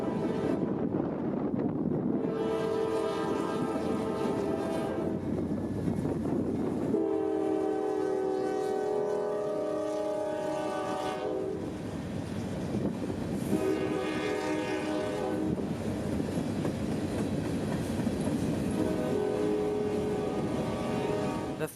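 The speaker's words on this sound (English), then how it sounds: "our grain train would roll next to the old GS&F brick depot" A long grain freight train rolls past an old brick depot in central Georgia with steady rumbling and clanking, while a horn blares in long repeated blasts and wind buffets the microphone.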